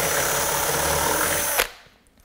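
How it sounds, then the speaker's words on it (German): A power drill bores a hole while building a cabinet for a bandsaw, running in a steady, loud whir close by before stopping abruptly and spinning down. "jetzt können wir hier ganz entspannt unser Loch bohren"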